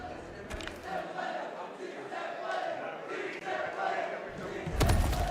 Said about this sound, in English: Letting the crowd get some chants off right there.